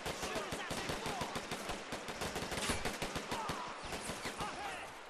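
Gunfire in the Men of War cold war battle game, rapid bursts of machine-gun and rifle shots crackling densely, with faint distant shots mixed in.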